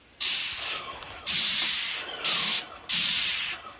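Airless sprayer spraying stain onto a wooden deck, four loud hissing bursts of spray, each starting sharply and lasting roughly a second, separated by short quiet gaps.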